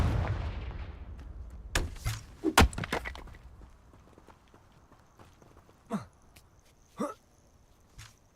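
Confringo blasting spells fired in Hogwarts Legacy, a cluster of sharp cracking bursts early on followed by two more isolated blasts with a faint ringing shimmer, fading quietly between hits.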